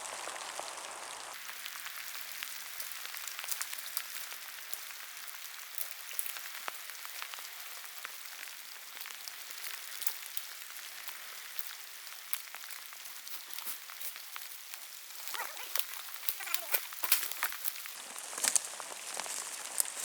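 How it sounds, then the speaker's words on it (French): Steady rain pattering on leaves and ground in a woodland during an outdoor bushcraft compass-navigation hike, a dense close hiss with scattered drops, no voices. "On s'est fait pogner par la pluie"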